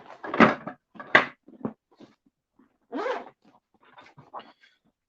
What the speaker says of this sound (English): This thing's got a zipper.